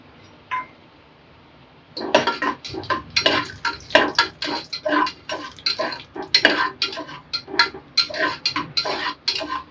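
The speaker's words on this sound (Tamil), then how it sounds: "நெய் கொஞ்சம் விட்டுக்கிறேன் முந்திரி வறுக்கிறதுக்கு" Cashews frying in ghee for paruppu payasam, with a spoon repeatedly scraping and stirring in a metal pan, making rhythmic clinks and rattles over a faint sizzle after a quiet start.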